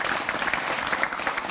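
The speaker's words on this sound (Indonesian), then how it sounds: "tepuk tangan untuk semua narasumber saya pada malam hari ini" Studio audience applause for the guests on an evening talk show, a steady, lively round of clapping from many hands with no voices over it.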